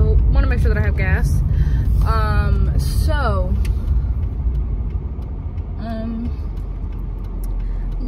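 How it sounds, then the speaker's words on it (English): Car driving on a road toward a gas station, a constant low engine and road rumble from inside the cabin, with a person talking over it for the first half before the drone continues alone. "I am driving to the gas station really quick to get gas"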